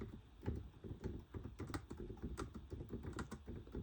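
Quick, close keystrokes clatter on a computer keyboard as someone types a search into Google, an uneven rapid tapping with no talk.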